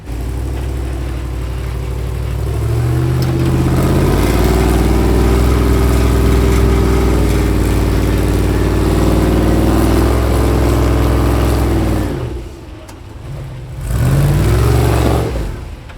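An off-road vehicle's engine on a Moab trail roars loud and close, labouring and revving steadily as it crawls over rock, then drops away briefly before surging again near the end.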